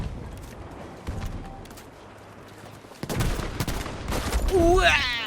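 Battlefield V gunfire: scattered distant shots at first, then louder clustered bursts of rifle and heavier weapon fire, with a rising whistling tone near the end.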